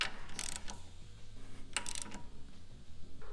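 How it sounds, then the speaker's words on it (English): Ratchet wrench with a 9/16 socket clicking as it tightens bolts while a hydraulic brake pedal kit is installed on a Sling Shot, two quick bursts of rapid ratcheting, close but quiet, with no talk. "come back with the 9/16, tighten the rest of it"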